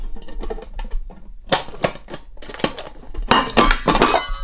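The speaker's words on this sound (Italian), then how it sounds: "la padella è una classica padella pieghevole" A folding camping frying pan is handled, giving a run of sharp metallic clinks and knocks that cluster into a busier rattle near the end, close and alone.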